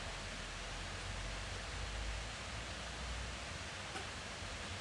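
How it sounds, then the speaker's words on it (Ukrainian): The 40-metre Shypit waterfall produces a faint, even hiss of falling water that stays steady throughout, heard from some distance with no talking. "Нарешті ми прибули, шановні друзі, до водоспаду під назвою шипіть."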